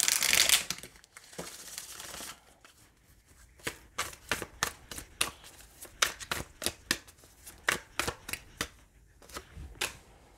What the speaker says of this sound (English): Let's pull some cards here from the Madame Endura Fortune cards